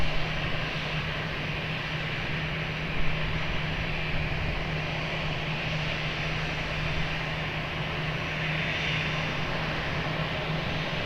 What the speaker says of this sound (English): Airbus 330 crossing the runway on Alpha